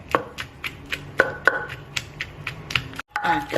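Shallots and garlic, roasted first, are pounded in a mortar with a pestle: sharp, close thuds land in an irregular rhythm, roughly a dozen strikes, with a brief pause near the end.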